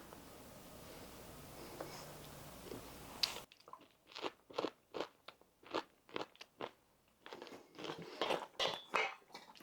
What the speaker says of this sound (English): we can actually taste one of the bread cubes. Now they're going to be crunchy